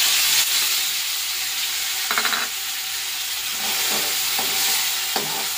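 Tomato, green and ripe chili, salt and turmeric paste sautéing in oil with five-spice, a loud continuous sizzle broken by several scraping stirs of a spatula.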